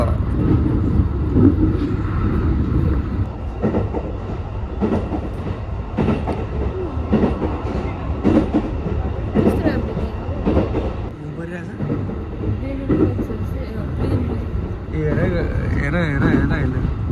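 Riding a train in Japan: steady rumbling rail noise with rhythmic clacks of wheels on track, constant and close, with people talking over it.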